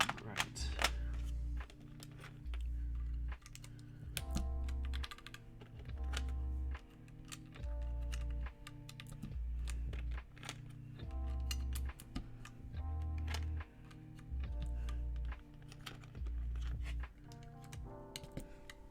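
Typing on a Legacy45 mechanical keyboard with a solid, rattle-free spacebar: bursts of clacky keystrokes with regular deeper thocks, moderately close and quiet, no talking.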